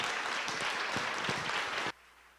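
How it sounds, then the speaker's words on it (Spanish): An audience at a 2022 women leaders' forum claps in a dense, steady burst of applause that fills the room, then cuts off abruptly near the end, leaving near silence. "Un aplauso, por favor."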